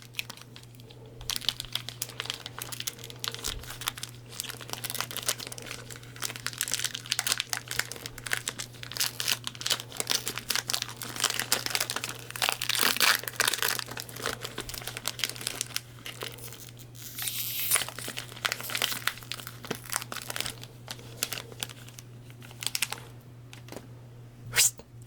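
Cardboard and plastic toy blind box packaging is crinkled and torn open along the spine, close and continuous, with dense crackling rustles that swell and ease over a steady low hum.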